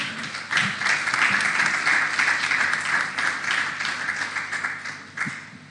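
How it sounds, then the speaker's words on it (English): A large audience at the SIGNIS world communicators' meeting in Kigali, Rwanda, applauds loudly, with dense, sustained clapping that swells after a brief pause and holds for several seconds before thinning near the end. "Encore une fois, on les applaudit très fort."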